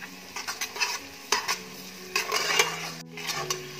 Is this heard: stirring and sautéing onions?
yes